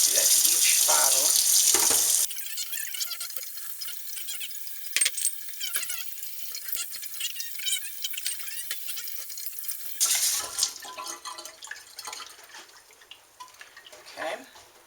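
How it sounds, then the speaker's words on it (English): Kombucha bottles rinsed under a running kitchen tap, with loud, steady water splashing for about two seconds, then quieter clinks, drips and handling before a second burst of running water near the end. "I rinse the jar, then I snap it down, rinse the bottom"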